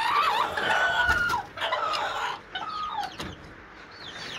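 Several hens cluck and chatter nearby in a coop, with drawn-out squawks and short clucking calls overlapping in a busy, close-up flock.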